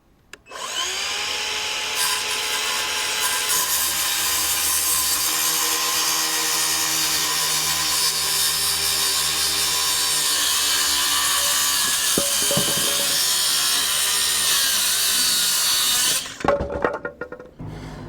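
Scrap wood board being cut straight across with a power saw: a loud, steady whine running almost continuously for about sixteen seconds before stopping abruptly, followed by a few faint clatters.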